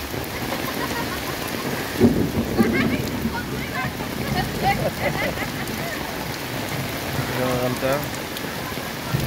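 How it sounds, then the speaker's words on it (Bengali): Heavy rain pours down outdoors, a dense, continuous patter and splash close by, with people talking over it at moments. "প্রচুর বৃষ্টি হইতেছে।"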